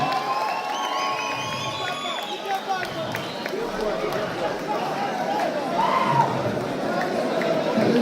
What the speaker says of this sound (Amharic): አሸናፊው the winner ጆኒ ጂጂቱ አንዴ ወጣ ጭብጨባ the new champion